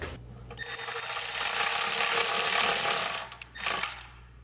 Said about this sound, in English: all I'm doing is snugging the bolts up